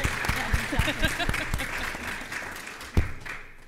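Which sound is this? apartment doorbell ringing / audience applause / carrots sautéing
audience applause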